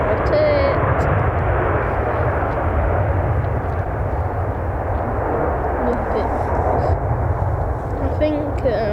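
A jet airliner roars loudly and steadily as it takes off at Manchester Airport, the engines filling the scene close by while a voice talks faintly underneath.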